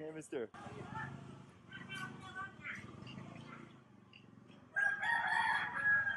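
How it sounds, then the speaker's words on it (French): Rooster crowing outdoors near hens and chickens along a street in Indonesia, a loud drawn-out call rising near the end over ongoing talk. "On peut entendre un coq."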